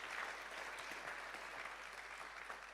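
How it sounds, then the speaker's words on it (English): Audience at the Arctic Inspiration Prize ceremony applauding the ambassadors, a steady wash of many hands clapping at once, fairly faint and unbroken throughout. "Let's give all the ambassadors in the room a big round of applause"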